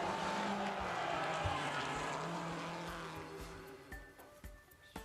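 Subaru Impreza STI rally car roaring loudly and continuously on a stage, with engine and tire noise swelling then easing off, broken by a few sharp bursts near the end.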